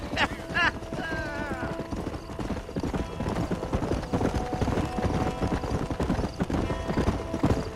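Horse hooves clip-clop at a trot in the Western video game Red Dead Redemption, a steady close rhythm. A short whinny or jingling tone comes near the start, and spoken voices occur among the hoofbeats.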